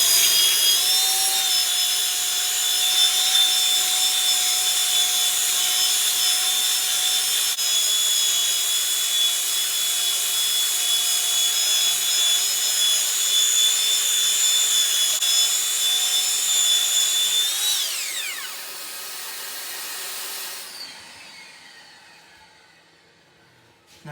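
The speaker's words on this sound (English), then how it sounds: "ready to go ahead with these boards, start getting them sanded" Power sanding of wooden serving and chopping boards: a loud, steady high whine with constant abrasive rasp for nearly twenty seconds, then the tool spins down and fades to near silence, with no speech.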